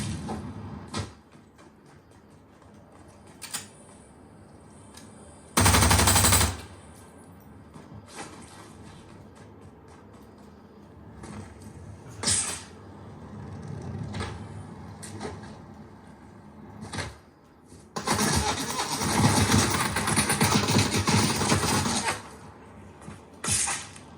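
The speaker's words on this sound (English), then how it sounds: "So just have a listen for a quick bit of gameplay here." Video game sound plays through Edifier G2000 gaming speakers in a room, shifting between quiet stretches, rumbling mechanical passages and loud bursts of noisy effects.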